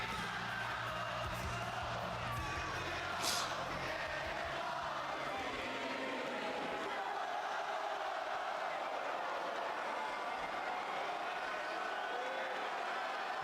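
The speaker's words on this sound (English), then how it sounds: "You hear that crowd?" A wrestling arena crowd roars and cheers in a steady, dense wash of noise from a large audience, continuous throughout with no pauses.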